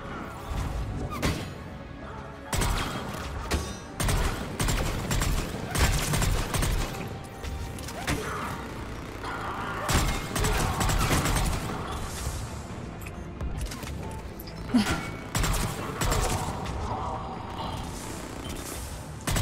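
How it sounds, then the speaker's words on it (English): Rapid gunfire bursts and heavy impacts crackle through a Mass Effect 3 firefight, loud and dense with repeated volleys, crashes and mechanical clanks one after another. "I'm trying to see who she's shooting at"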